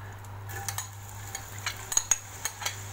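Onions frying in ghee, a quiet sizzle with a few quick stirring clicks over a low steady hum, brief and close.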